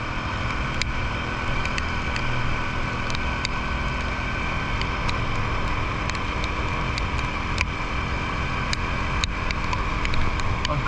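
A motorbike rides a winding hill road with sharp bends on a long trip, giving a continuous engine drone mixed with wind rush, steady and close throughout with occasional faint clicks.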